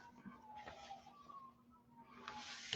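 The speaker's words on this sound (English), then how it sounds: "hearing the sirens outside?" A distant siren wails faintly outside, its tone sliding up and down behind quiet room noise.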